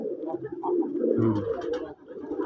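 Red and white pigeons at a breeding farm in Nawabganj, Dhaka, cooing in soft, continuous throaty murmurs, close by and moderately loud.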